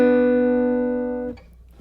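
Two notes, the third and fifth of a G-position chord, ring together as a bluegrass guitar double stop, sustaining steadily with gentle decay before being muted near the end, leaving quiet room noise.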